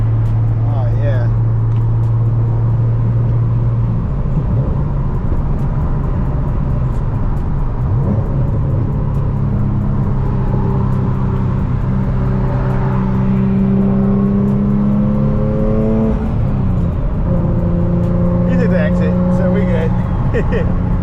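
A BMW M340i drives past, its engine rising and falling in pitch as it accelerates by, fairly close and loud, with people talking over the sound.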